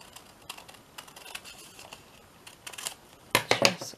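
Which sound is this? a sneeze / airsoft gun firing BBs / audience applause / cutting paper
cutting paper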